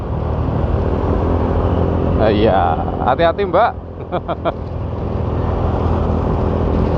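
Cars and motorcycles stream past close by on a road in Madiun, a continuous loud engine roar with brief buzzing and tonal bursts from passing vehicles midway, and a person speaks briefly.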